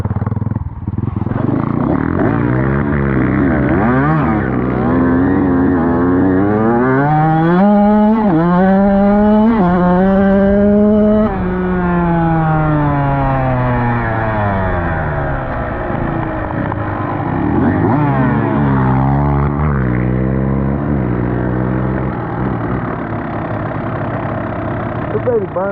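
A dirt bike engine revs up and down again and again while being ridden, loud and close, with rising and falling whines and people talking over it.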